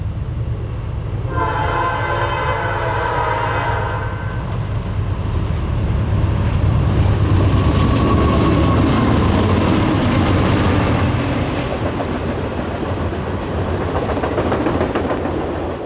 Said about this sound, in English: 8822 sounds its Nathan P5